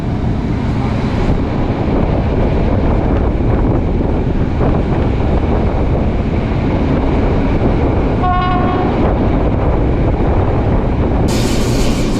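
A historic Polish train rumbles loudly and steadily along the rails through the Owl Mountains, with a brief horn-like tone and some wind buffeting.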